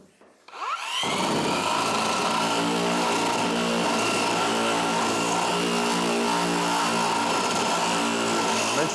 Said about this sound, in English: We're going to take and grind down to the flange underneath.